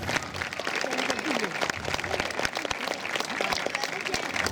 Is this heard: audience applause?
yes